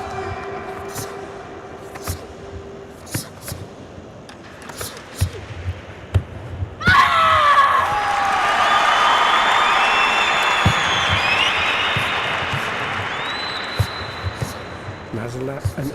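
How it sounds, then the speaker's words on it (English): Spectators at a karate kata match erupt into a sustained burst of cheering and applause midway, preceded by scattered claps and thumps, with a voice talking throughout. "Hear the crowds cheering even in kata."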